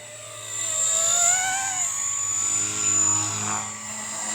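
A Blade 235 CP radio-controlled helicopter flying nearby, a high whining motor and rotor buzz that rises and falls in pitch as it maneuvers, steady and moderately loud throughout.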